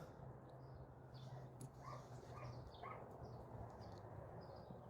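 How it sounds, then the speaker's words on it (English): A neighbor's dog shut inside a house barks and whimpers in short, muffled bursts, faint and distant through the walls, over a steady low background hum. "Neighbor's dog doesn't like to shut up, I guess."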